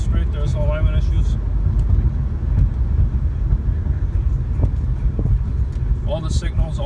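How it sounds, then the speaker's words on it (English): A white 2013 Toyota Scion tC two-door with a 2.4-litre four-cylinder engine and automatic transmission, heard from inside while driving as a steady low engine and road drone with some faint chirps. "As you see, the automatic transmission shifts correctly,"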